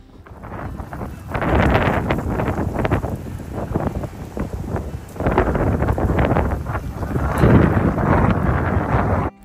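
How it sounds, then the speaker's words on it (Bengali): Strong gusty wind blows in bright sunshine at a Second World War memorial site, roaring loudly against the microphone in surging waves with short lulls between gusts. "আর এদিকে দেখুন ঝড়ের কেমন শব্দ। এই রোদের মধ্যে হচ্ছে ঝোড়ো হাওয়া।"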